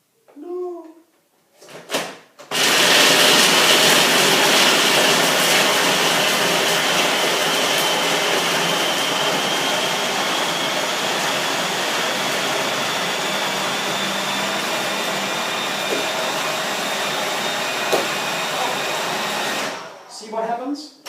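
A food processor whirs steadily as it mixes corn cracker dough, a loud continuous motor drone starting abruptly after a brief clatter and running for about seventeen seconds before cutting off.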